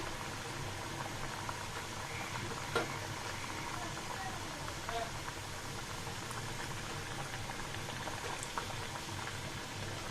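Pitha cakes fry in hot oil with a soft, continuous bubbling sizzle, faint and steady throughout.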